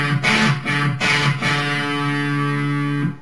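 A distorted electric guitar plays a power chord riff: three quick choppy chord hits, then one held power chord ringing out loud and fuzzy.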